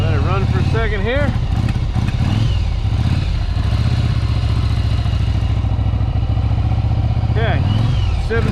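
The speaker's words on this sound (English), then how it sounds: "let it run for a second here." A 1988 Yamaha Virago 750 cruiser motorcycle idles close by with a steady low chugging throb, while a voice talks over it in places.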